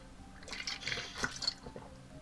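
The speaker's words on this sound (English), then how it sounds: "If you hear random squishy noises in any of my videos ever, that's my water bottle." A water bottle gives off soft, squishy, wet crinkling and sloshing noises, faint and close, scattered irregularly through a quiet background.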